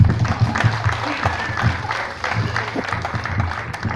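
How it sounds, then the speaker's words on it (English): An audience claps steadily through the whole stretch at an evening welcome event in Cayo, Belize, a dense close wash of applause that swells and dips slightly without a clear break. "Give yourselves a round of applause."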